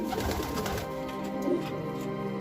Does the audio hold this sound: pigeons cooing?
yes